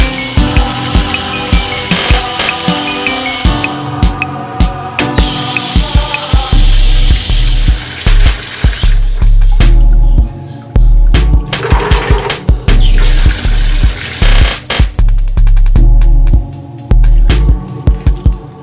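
Clams being rinsed in water to wash off sand and grit: loud, continuous splashing and clattering of shells in a bowl or sink, with irregular knocks and running water and no talking.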